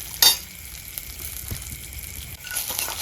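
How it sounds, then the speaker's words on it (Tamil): Ingredients for tomato kurma, including coconut, sizzle and crackle steadily as they roast in a pan, with a brief sharper scrape near the start. "இது கொஞ்சம் நல்லா வறுபடட்டும்"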